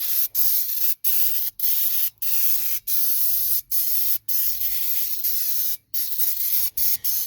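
Brake parts cleaner sprayed onto a turbo in repeated loud, close aerosol hisses, each long burst separated by short breaks, with no talking.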